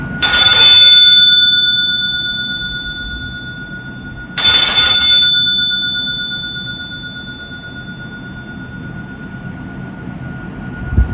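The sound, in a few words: bell ringing during meditation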